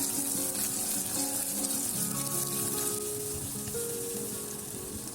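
Small onions sautéing in a pan for vathakuzhambu, a steady close hiss and sizzle running through the whole stretch, easing slightly toward the end with no talking.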